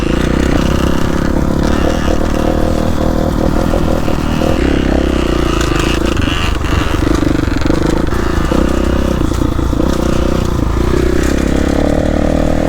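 A loud enduro motorcycle engine roars continuously up close, with rough revving and clattering mechanical noise throughout.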